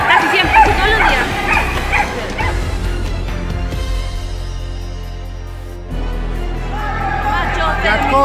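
Several dogs at a street adoption spot in Concepción bark and yip repeatedly, fairly close and loud, mixed with people talking and background noise throughout.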